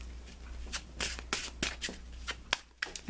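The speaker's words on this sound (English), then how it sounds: "Let me pull you an additional guidance card." Tarot cards are shuffled by hand in a quick series of soft riffling flutters and taps, close and fairly quiet.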